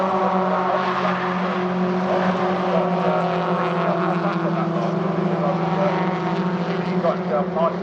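A pack of MG ZR race cars at Silverstone roars past trackside, engines droning loud and steady with shifting pitch as the group streams through, while a commentator talks over the noise.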